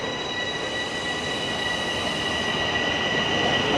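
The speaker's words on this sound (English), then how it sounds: "That's a northbound train." A northbound train rolling past in Toronto, a steady loud rumble of wheels on rails with high, sustained squealing tones ringing over it, continuous and close.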